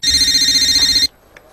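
A telephone in a home gives one loud, bright electronic ring lasting about a second, then cuts off into near silence with a faint click.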